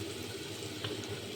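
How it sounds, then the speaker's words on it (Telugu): Three glasses of water poured into a pan of fried ginger-garlic paste and spices for bagara rice, a steady, even rush of liquid that runs unbroken at moderate volume, with no voices. "3 గ్లాసుల వాటర్ వేసాను."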